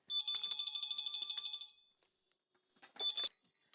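A phone rings in two bursts of a bright electronic trill, the first lasting over a second, then a pause before a shorter second ring.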